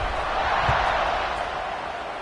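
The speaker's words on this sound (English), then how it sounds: "this crowd is buzzing after that last score" Stadium crowd at a college football game between Florida and Utah State, a broad, steady buzz of many voices after a score, loud and sustained, with a brief thump near the middle.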